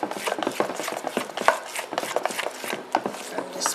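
Cauliflower pieces being mixed with teriyaki sauce in a bowl, a close, uneven run of wet scraping and rubbing strokes with a few light knocks and no talk.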